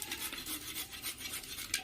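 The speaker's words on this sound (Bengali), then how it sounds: "এই বড় দিকটি দিয়ে ভালো করে ঘষে নেব" Carrots rubbed down the large holes of a box grater, a steady scratchy rasping in quick repeated strokes, close and moderately loud with no voices.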